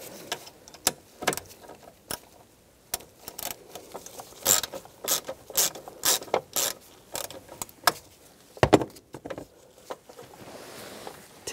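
Ratchet fitted with an E6 Torx socket removing a screw from the turn signal combination lever area of a 1999-2006 Chevrolet Silverado 1500, giving close, irregular clicks and sharp mechanical ticks in scattered bursts with no talk.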